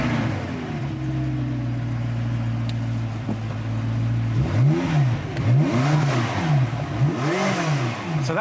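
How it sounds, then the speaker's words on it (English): A McLaren engine breathing through a tuned exhaust idles with a steady low drone, then revs up and down repeatedly in rising and falling sweeps, loud and close, with no talking. "by tuning the exhaust system to get the right kind of mixing between the different cylinders, that gives us the Metallica sound"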